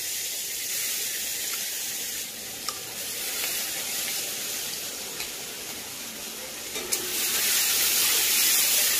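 Ground spice paste drops into hot frying oil in a pan and sizzles loudly and close, a continuous crackling hiss that swells stronger toward the end.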